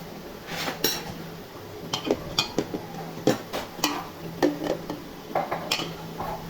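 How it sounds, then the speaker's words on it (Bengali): A dal masher knocks and scrapes against a pot while mashing boiled masoor lentils, producing irregular metallic clinks and taps in uneven bursts, close and fairly clear. "এখন ডাল ভুটনি দিয়ে ডালটা ঘেটে দিব।"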